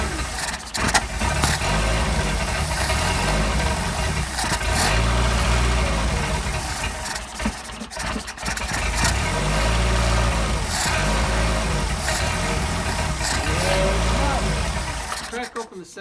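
A car engine fitted with a Solex carburetor idles steadily and loud, running lean with air bypassing, its rough low throb pulsing in slow waves with a few brief revs and no speech.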